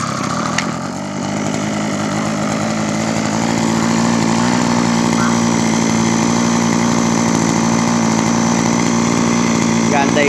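A Mitsubishi TB26 grass trimmer's small two-stroke engine starts and then runs at a steady, loud idle-like drone, close by, for the whole stretch.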